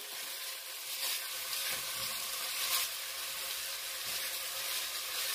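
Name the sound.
onions sauteing in oil in heavy pot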